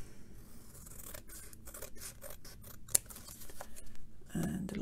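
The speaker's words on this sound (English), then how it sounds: "We just trim that down a little bit" Scissors trimming paper for a handmade semi-circular book, close snipping and rustling cuts in a quick series with one sharp snap near the middle, ending in a brief scrape.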